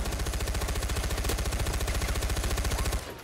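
Rapid automatic gunfire in Far Cry 4 rattles in a fast, even stream of loud shots for about three seconds, then cuts off into quieter background.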